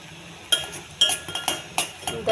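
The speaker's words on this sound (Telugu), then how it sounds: "దగ్గరికి మాడిపోకుండా ఇలా కలుపుతూ ఉండాలండి" A spoon scrapes and clinks against a pot while red rice is stirred, several sharp metallic knocks spaced irregularly over a quiet background, close and moderately loud.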